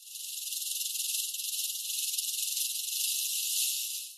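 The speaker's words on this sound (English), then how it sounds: "A rattlesnake uses its tail as a musical instrument of survival" A rattlesnake shakes its tail in a continuous, loud, dry buzzing rattle that holds steady and close throughout before cutting off at the end.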